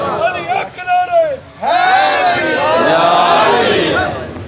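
A majlis crowd during a Muharram gathering shouting religious slogans together, a loud massed chant with overlapping voices that rises and holds after a short pause.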